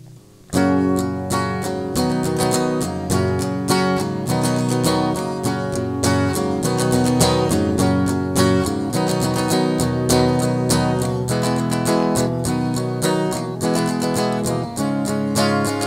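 Acoustic guitar strums chords in a steady, busy rhythm, loud and close, playing continuously with no voices.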